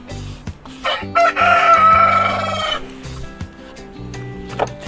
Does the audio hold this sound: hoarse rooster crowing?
yes